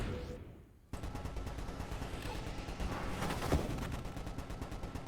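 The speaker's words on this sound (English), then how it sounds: "we're just going to put a lot of bullets in a lot of places at this point" Weapons fire streams of bullets in the Nova Drift space shooter game, a dense rapid rattle of shots that starts abruptly after a brief quiet swell and continues steadily to the end.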